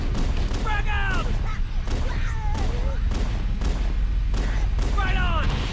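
A frag grenade explosion and gunfire in Halo: Combat Evolved, heavy booming blasts and shots recurring through the stretch, with in-game voices and chatter over the combat.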